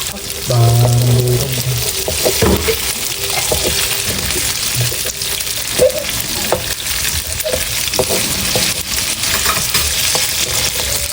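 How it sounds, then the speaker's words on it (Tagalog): Tofu fries in oil in a pan and is stirred, the close, loud sizzling running the whole way through, with scraping stirs and utensil clinks scattered across it and no talking. "hahaluin ko po muna ng kaunti itong tokwa"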